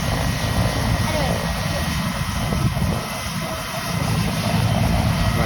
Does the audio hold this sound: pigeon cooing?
no